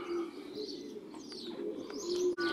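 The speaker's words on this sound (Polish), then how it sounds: "O, cały czas przychodzą gołębie" Racing pigeons arriving at a loft during a race flight, with steady soft cooing and occasional chirps close by over a constant outdoor background hum.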